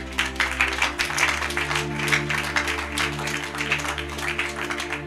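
Congregation applauding in a church during a French-language Bible study on Genesis, a steady wash of clapping over a sustained low organ-like hum, moderately loud and continuous throughout.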